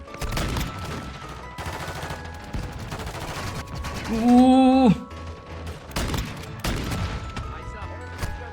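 Bursts of weapon fire in Warzone Mobile, on the Crash map, crackle in repeated volleys. A bright rising electronic tone briefly cuts through midway before the shooting resumes in sharp, close clusters.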